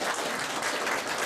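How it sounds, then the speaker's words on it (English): An audience at a Bathurst remembrance smorgasbord event gives a round of applause for a councillor, dense continuous clapping filling the whole moment with no voices over it. "if you wouldn't mind giving Monica a round of applause"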